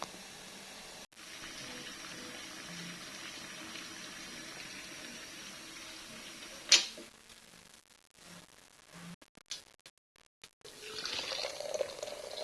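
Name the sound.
water poured into Milo chocolate drink with sugar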